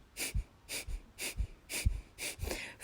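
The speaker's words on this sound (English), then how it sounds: "breathing through breath of fire." Rapid breath-of-fire yoga breathing in a Kundalini session: sharp, forceful exhales repeat in a steady rhythm about twice per second, close and clear with no talking.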